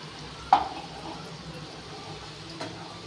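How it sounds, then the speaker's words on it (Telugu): Sugar syrup for coconut laddu is stirred in a pan, with a faint, steady simmering hiss and two light clinks of the spoon against the pan, close by and quiet. "తీగ పాకం వచ్చేంత వరకు ఇలా బాగా కలుపుకుంటూ ఉండాలి."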